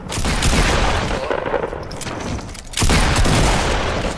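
Dense, loud team gunfire in Fortnite, overlapping shots in a rapid barrage that dips briefly near the middle before resuming at full force, close and continuous.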